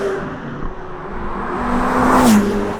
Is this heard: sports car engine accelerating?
yes